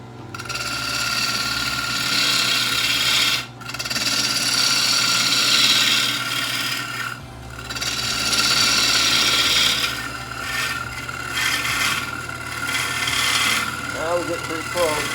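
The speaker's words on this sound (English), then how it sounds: "I'll move to a different size bowl gouge. This is a 3/8 bowl gouge." Wooden bowl spinning on a lathe while a 3/8 bowl gouge cuts, a loud continuous scraping hiss over a steady motor hum, with brief pauses as the tool lifts off.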